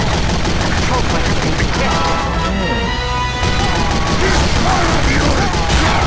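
Heavy's minigun in Team Fortress 2 fires as a dense, continuous rattle of rapid shots with explosions and crashes mixed in, very loud, briefly dipping before resuming.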